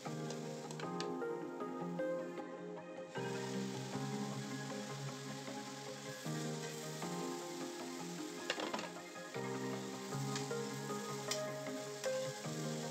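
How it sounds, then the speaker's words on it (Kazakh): Tripe sizzles steadily in a pan, a soft continuous frying hiss with faint crackles and music playing quietly underneath. "Қарнымызды 1-2-3 минутқа қуырамызда бетін крышкамен жауып қоятын боламыз."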